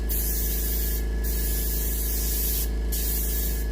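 Paint sprays from an airbrush-style gun onto a muskie fish mount in short sweeping bursts, a steady hiss over a constant low compressor hum.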